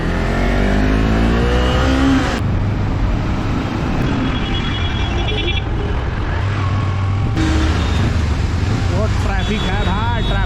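Busy Bangalore road traffic heard from a Kawasaki Ninja motorbike, with engines revving and droning loudly, vehicles passing close by and shifting engine tones throughout.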